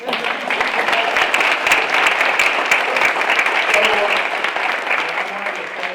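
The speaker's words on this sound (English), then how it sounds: "Round of applause for it" A room of attendees at a school district board of trustees meeting applauds, steady full clapping held at a constant level close to the microphone, with faint voices underneath.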